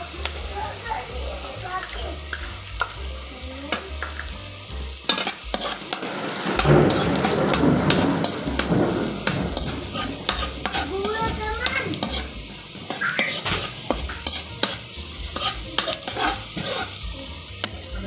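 Garlic fries in oil in a pan while a utensil stirs it, giving a steady close sizzle with repeated scraping clatter that swells briefly midway.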